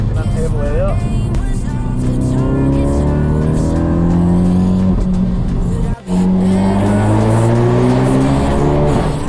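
A tuned Ford Focus RS accelerates hard with all four wheels spinning, its loud engine rising through the revs with a brief drop before climbing again, as traction control cuts in.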